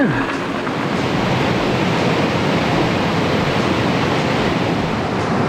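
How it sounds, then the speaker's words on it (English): Whitewater rapids on a rafting and kayaking course, a loud, steady broadband rush of churning water that continues without a break from start to finish. "Even got a whitewater rafting or whitewater kayaking course set out."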